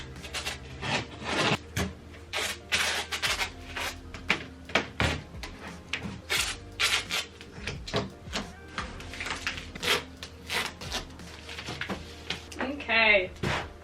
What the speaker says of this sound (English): I'm gonna tape down the bottom.